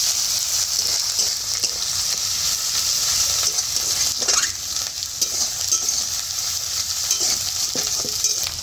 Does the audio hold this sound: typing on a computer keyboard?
no